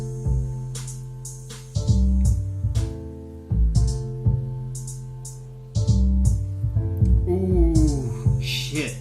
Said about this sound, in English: Now, next up, I got a piano sound on top of it that sounds like this.